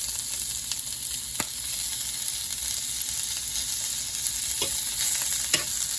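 Cheesesteak meat with peppers and onions sizzling on a griddle, a constant loud hiss of searing with occasional sharp ticks and scrapes of a spatula, close up and without talking.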